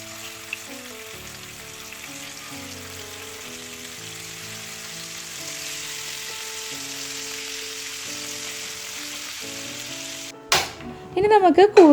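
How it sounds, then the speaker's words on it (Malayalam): Mustard seeds and small onions fry in hot coconut oil in a pan, giving a steady sizzle under background music, ending in a few louder clattering bursts. "ഇപ്പോൾ വെളിച്ചെണ്ണ ഒന്ന് ചൂടായപ്പോൾ കുറച്ച് കടുക് ഇട്ടിട്ടുണ്ട്. ഇതിലേക്ക് ചെറിയ ഉള്ളിയാണ് കേട്ടോ ഇപ്പോൾ ഇട്ട് കൊടുത്തത്."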